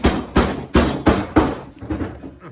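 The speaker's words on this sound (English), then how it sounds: "I like to hammer stuff. Hammering all the time." Metal hammer blows ring out while a sway bar is installed on the front suspension of a 1994 Jeep YJ, about eight sharp, close strikes in an even rhythm, the last few lighter, no talking.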